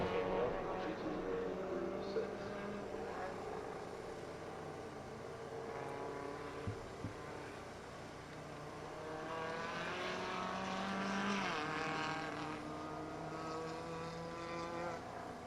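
A Ford EcoBoost Mustang at speed on a race circuit during a time attack event, its engine a steady moderate drone with shifting pitch as it passes, mixed with other distant track and crowd noise.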